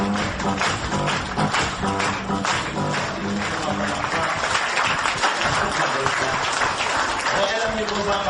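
An audience at a business presentation applauds continuously to welcome a speaker, a steady dense wash of clapping that holds at an even level.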